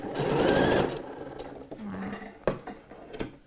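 A sewing machine runs a brief close burst, stitching a dress seam along the back strap, then falls quiet while someone speaks and light handling clicks and taps of fabric and tools follow.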